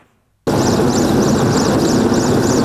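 A military helicopter at a Rosgvardia holiday demonstration, where a SOBR fighter is lowered head-first from it, cuts in suddenly as a loud, close, continuous rotor and engine roar with rhythmic blade chopping.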